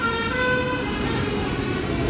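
A GBW tour bus drives past on a road in West Sumatra, a loud steady engine drone with a sustained horn-like tone running throughout.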